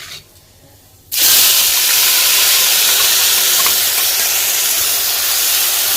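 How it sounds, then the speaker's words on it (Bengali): Ginger, garlic and green chili paste hits hot oil with a sudden loud, steady frying hiss that starts about a second in and carries on unbroken to the end, after a quiet moment before the pan erupts. "এর মধ্যে এবার দেব আদা রসুন আর কাঁচা লঙ্কার পেস্টটা"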